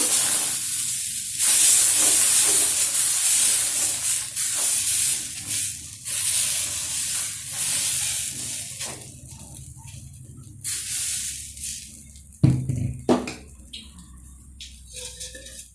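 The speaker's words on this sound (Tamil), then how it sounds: "தோசை ஊற்றலாம் கல் நல்லா காஞ்சோடனே ஊற்றலாம்" Horse gram dosa batter spread on a hot griddle, giving a loud steady hiss and sizzle that gradually fades, with a few close scraping clunks near the end.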